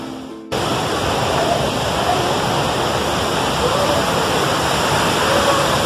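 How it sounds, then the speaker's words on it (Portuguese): A waterfall at the Salgadeira tourist complex roars close by. The dense, steady rushing wash cuts in abruptly after a brief quieter moment and then stays loud and unbroken. "O barulho tá grande, tem uma cachoeira aqui do lado"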